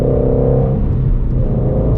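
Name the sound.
Shelby GT350 Mustang engine burble when revved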